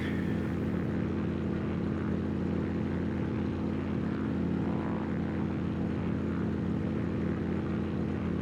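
Steady propeller drone of a Stinson 108-3 light aircraft engine in the X-Plane 12 flight simulator, flying over the James River in Virginia. The even, continuous engine hum holds without a break and no one speaks.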